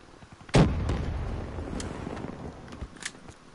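A grenade blast in Black Ops 3 gameplay hits loud and close, then scattered gunfire cracks and smaller bursts follow over a rumbling tail.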